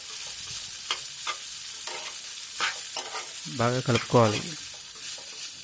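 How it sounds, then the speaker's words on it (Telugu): Soaked flattened rice (poha) is stirred in oil with turmeric, salt and tempering in a pan, giving a gentle sizzle with repeated scraping strokes. A brief voice-like sound is heard near the end. "ఈ అటుకుల్ని వేసుకొని బాగా కలుపుకోవాలి"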